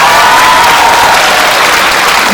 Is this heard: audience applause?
yes